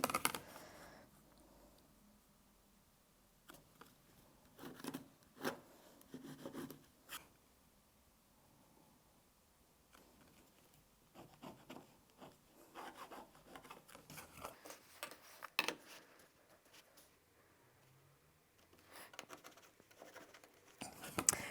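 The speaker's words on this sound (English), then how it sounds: "So I'm just going to draw a little box with my pen on the 2 outside pieces and the 2 lining pieces" A pen drawing a small box on fabric pieces for a cosmetic bag, heard as soft, close scratchy rubbing strokes in short bursts separated by quiet pauses.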